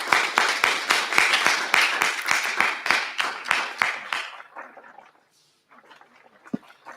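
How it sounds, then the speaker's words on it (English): Rhythmic, evenly spaced hand claps, roughly a dozen in steady succession, from a conference audience relayed over a live-stream platform; they die away into near silence, followed by a few faint scattered noises. "And I can hear online also participants applause."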